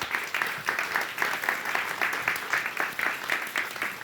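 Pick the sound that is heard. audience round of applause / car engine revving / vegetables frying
audience round of applause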